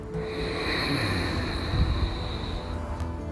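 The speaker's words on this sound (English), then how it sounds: "It's an audible breath that travels in through the nose" Ujjayi yoga breathing: a slow, steady breath drawn in through the nose and a constricted throat, a soft rasping hiss close by, just short of a snore, with no talking.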